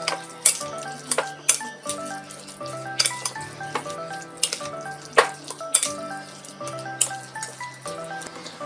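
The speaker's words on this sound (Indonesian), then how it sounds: "Kita aduk rata dulu." A spoon stirs cilok dough mixture in a bowl, giving repeated close clinks and scrapes in an uneven rhythm over soft steady background music.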